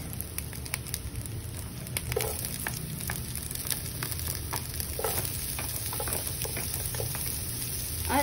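Onions sautéing in a pan for a corned beef and vegetable stew, a steady close sizzle with light crackles and occasional stirring scrapes, no voices.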